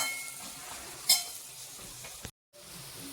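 Semolina (rava) dry-roasting and being stirred in a pan for upma, a soft steady sizzle with faint scraping, a brief brighter clink near the start and a short silent gap near the end.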